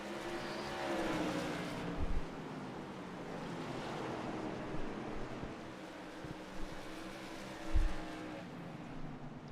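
Tour Modified race cars roar around a track at a distance, a dense, steady engine wash with a few louder passes and thumps, no voice over it.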